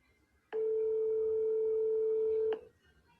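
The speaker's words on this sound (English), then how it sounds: "listen to where this phone number goes to when you call this childcare center" A single steady telephone tone sounds loud and alone for about two seconds as a call to a Minneapolis childcare center's number connects, ending abruptly with a click.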